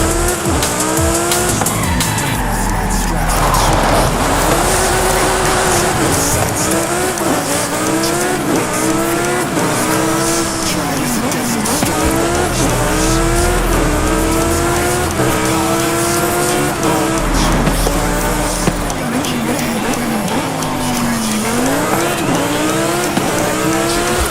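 A race car engine in the video game Forza Horizon 5 roars continuously, revving up and down through repeated gear shifts, with occasional tire squeals, loud and close throughout.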